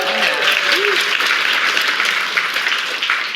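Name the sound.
studio audience applause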